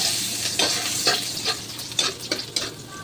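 Garlic dropped into a hot pan for a Filipino bopis dish, a close continuous sizzle with a few sharper crackles and stirring scrapes over a few seconds.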